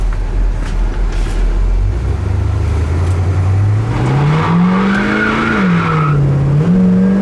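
A 1969 Oldsmobile Cutlass Convertible V8 rumbles, then the revs climb steadily as the car accelerates hard and the transmission kicks down, loud and close with no talk.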